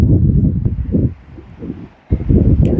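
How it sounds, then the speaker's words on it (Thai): Strong wind gusts buffet the microphone at a beach campsite by the sea, a loud broadband roar that surges, drops to near silence briefly, then returns hard. "ลมแรง"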